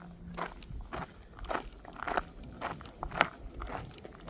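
Footsteps crunch on a Montana hiking trail as someone approaches, a series of irregular scuffing steps with gravelly crunches, moderately close and fairly quiet in an otherwise still outdoor setting.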